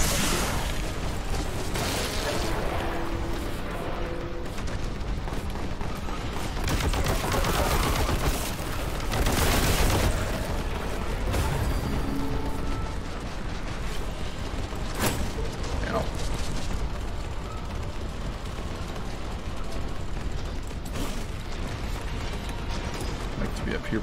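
Meltagun blasts in the Warhammer 40k Boltgun game, a dense roar of gunfire and explosive booms that runs throughout alongside game effects, with a person talking over the action.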